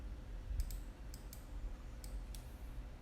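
Several sharp computer mouse clicks, spaced a few per second in close pairs, crisp and near against a quiet low room hum.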